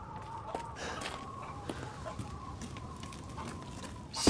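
Chickens in Resident Evil Village cluck faintly in the background, scattered soft calls over low ambience, ending in a brief louder burst.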